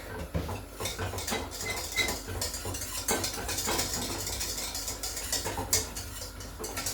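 A whisk stirs a roux with milk in a pan for cauliflower cheese, a continuous close scraping and clinking of metal on the pan with a brisk rhythm.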